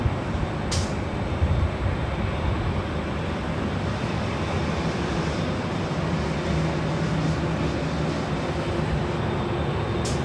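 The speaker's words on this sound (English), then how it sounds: "Your speakers are rumbling with the sound of the planes flying over our head here today." Planes pass over the runways at LAX airport, a steady low rumble of jet noise filling the scene without a break, loud and continuous with a brief sharper burst near the start.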